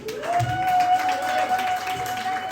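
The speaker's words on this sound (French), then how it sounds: "Si vous applaudissez s'il vous plaît." Audience applause at the final of a departmental school competition: dense, steady clapping throughout, with a sustained high whistle-like tone running across it and some voices mixed in.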